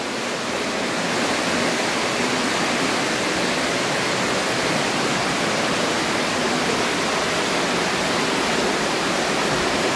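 Water rushes through a cave at Cherrapunji in Meghalaya, a steady, loud, unbroken roar of flowing water with no breaks and no voices.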